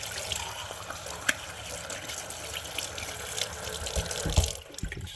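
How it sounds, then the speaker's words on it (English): Hot water running steadily from a tap into a container, a loud continuous rushing splash close by with little change until it tapers and sputters near the end. "Should we just fill the container up with hot water"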